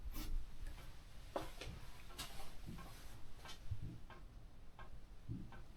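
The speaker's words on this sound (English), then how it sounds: "No, that is fireworks." Faint, irregular bangs of distant Bonfire Night fireworks heard from inside a Welsh bothy, a few sharp thuds scattered over a low background rumble.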